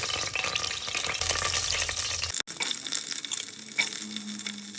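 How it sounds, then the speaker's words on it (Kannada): Seeds sizzle and crackle in hot oil for tempering, a steady close frying hiss with a brief break midway, with no voices. "ಗೈಸ್, ಕಾಳು ಸ್ವಲ್ಪ ಒಗ್ಗರಣೆ ಆಗಲಿ."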